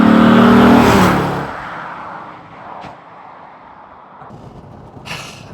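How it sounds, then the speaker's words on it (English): A Corvette C4 ZR1 with its Lotus-designed LT5 V8 roars loudly at first, then the smooth engine note fades into a quieter whir with a brief swell near the end. "the LT5, it doesn't just rev, it's turbine smooth, and the power just builds and builds and builds"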